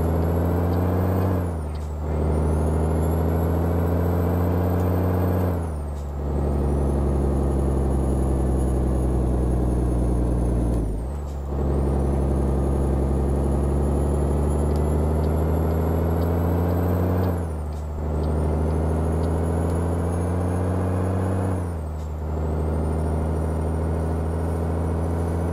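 Peterbilt 387 truck engine in Euro Truck Simulator 2, a loud, deep diesel drone whose pitch climbs steadily through each gear, then dips sharply at each shift with an air-brake hiss, repeating several times.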